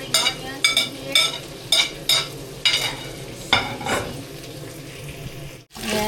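The hard white parts of spring onions tossed into a pan with onions, bright sizzling frying under repeated stirring scrapes in a quick rhythm, close and fairly loud, then a brief pause before the sizzle resumes.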